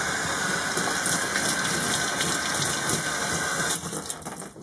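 Tap water runs steadily into a laboratory sink, rinsing it down with a continuous rushing gush, close and unbroken, before it tapers off near the end.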